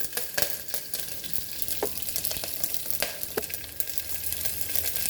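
Curry leaves sizzle in hot oil for sambar, a steady broadband crackle with a few sharp pops and stirring clatters, close and continuous throughout.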